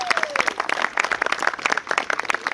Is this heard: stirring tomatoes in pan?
no